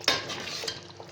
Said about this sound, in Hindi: हम इसको और 10 मिनट इसका ढकना खोल के इसको भूनेंगे।